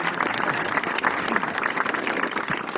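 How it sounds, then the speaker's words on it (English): A crowd of visitors on a battlefield tour at Gettysburg claps steadily, dense and sustained applause close by with no talking over it. "How about a round of applause for old Joe?"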